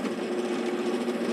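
Wood turning lathe just switched on, its motor giving a steady mid-pitched whir with a rough buzzing edge, close and continuous with no talking.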